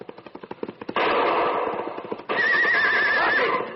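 A horse whinnies loudly with a wavering, rising-and-falling cry in a Western ambush scene, following a burst of rapid hoofbeats or gunfire-like cracks and a dense rush of noise.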